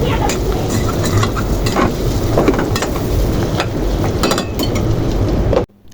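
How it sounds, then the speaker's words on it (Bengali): Prawns are stirred into a spice masala in a hot pan, with a steady, loud sizzle and scraping stir strokes that run without a break and then cut off abruptly near the end. "চিংড়ি মাছগুলো দেওয়ার পর আবারও খুব সুন্দরভাবে একটু নেড়ে চেড়ে কষিয়ে নেব মশলার সাথে"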